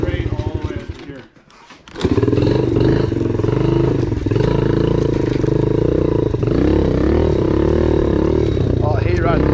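A motorcycle is ridden wide open through the gears, its loud, close engine roaring steadily after a brief dip near the start, with rough mechanical clatter throughout.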